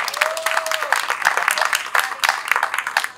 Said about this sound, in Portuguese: salve de palmas para Márcio Ricardo!